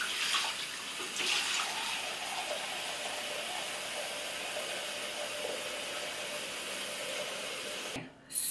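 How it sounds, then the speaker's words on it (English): Running water from a tap rinses face cleanser off with a washcloth, a steady close hiss of flow and splashing that continues throughout before cutting off sharply near the end. "I use a washcloth to just remove this."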